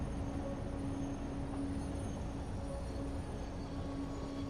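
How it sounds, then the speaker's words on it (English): A train in the Satisfactory video game runs downhill with a continuous low rumble of wheels on rails and a faint metallic tonal whine, steady and moderately quiet throughout, with no speech. "Once these trains get going in a direction, they don't want to stop. Especially downhill."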